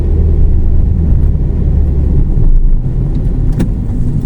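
A car climbs a steep, winding mountain road with S-curves up Phu Thap Boek in Phetchabun, Thailand, producing a loud, continuous low road and engine rumble close up.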